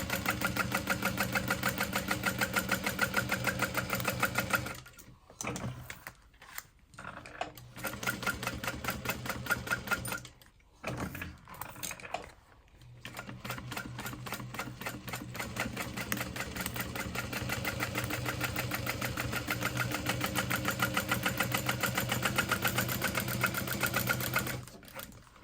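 A sewing machine stitches fabric in a steady, fast mechanical whir, pausing a few times around the five-, ten- and twelve-second marks for a corner pivot before running on evenly.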